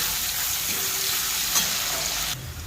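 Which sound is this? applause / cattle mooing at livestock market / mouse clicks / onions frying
onions frying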